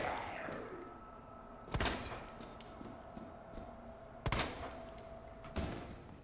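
Small-caliber gunshots go off in the video game Resident Evil 2, three sharp cracks spaced a couple of seconds apart, one of them doubled, over a quiet, humming game background.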